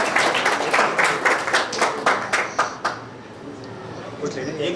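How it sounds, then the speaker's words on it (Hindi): A crowd claps loudly for about three seconds, then the applause thins and fades while voices murmur. "ज़ोरदार तालियां"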